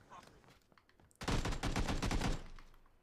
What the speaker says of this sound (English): I'm shooting that building because it's pissing me off